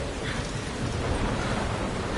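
Steady rain falling in the video game Life is Strange, a dense, even hiss of drops filling the whole stretch at constant moderate loudness with no voices.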